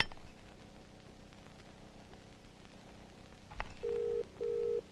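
A phone call ringback tone sounds on a mobile phone, two steady, even beeps of equal length with a short gap, clear against a quiet room after a faint click.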